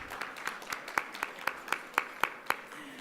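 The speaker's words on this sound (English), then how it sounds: "a big applause, yes" Audience applause at a conference luncheon, light and distant, with a handful of distinct claps in a regular beat over a quiet room hum.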